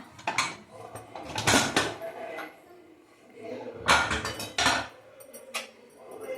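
A pressure cooker of biryani is opened after its whistles, with close metallic clanks of lid and pot in a few sharp bursts, scraping in between, and faint talk underneath.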